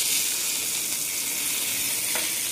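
Mustard seeds crackling in hot oil as a tempering for curry leaf chutney, a bright steady hiss of sizzling close by with one sharper pop near the end, no speech.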